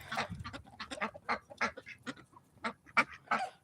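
Ancona ducks in a poultry flock quack in a quick, uneven string of nasal calls, several birds overlapping at close range with no talking.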